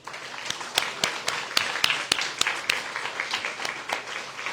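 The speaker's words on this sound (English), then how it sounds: "Let's give one more very big round of applause for everyone." An audience at a community garden awards ceremony in a grocery venue gives a round of applause, steady clapping from a modest crowd with a few sharp, louder claps standing out, no talk over it.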